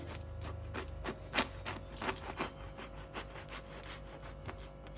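Warm oven-baked bread torn open by hand at a hotel iftar meal, giving a run of dry crackling, rubbing crust sounds in short bursts, close and fairly quiet with no talk.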